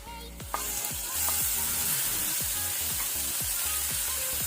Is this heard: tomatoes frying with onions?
yes